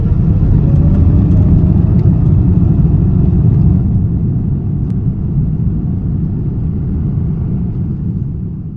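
Alaska Airlines Boeing 787 jet taking off, a loud steady roar of engines and cabin rumble that stays dense throughout and eases slightly toward the end, with no talking.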